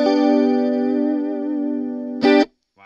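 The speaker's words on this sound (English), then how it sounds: "Here's with the chorus all the way up." A guitar played through a CoolMusic BP-Mini battery-powered amplifier with the chorus turned all the way up: one long, shimmering sustained chord that fades, then a brief bright strum cut off, followed by a faint note.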